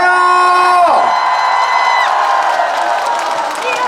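Festival concert crowd at the Goryeong melon festival cheering and applauding loudly, with a sustained sung or held tone fading early under dense crowd noise throughout.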